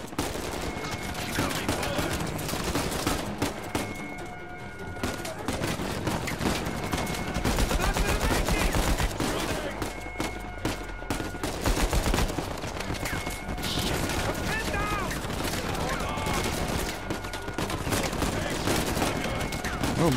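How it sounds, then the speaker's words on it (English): Blind gunfire in Uncharted 4, dense bursts of rapid shots and automatic fire that run nearly continuously, loud and close, with someone speaking over the shooting. "Blind fire seems pointless."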